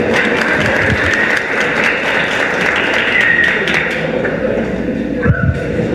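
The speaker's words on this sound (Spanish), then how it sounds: "Un fuerte aplauso para él de bienvenida." Audience applause welcomes a contestant to the stage at a local talent contest's elimination round in La Unión, Antioquia. Continuous clapping holds an even level throughout, and a sharp thump sounds near the end.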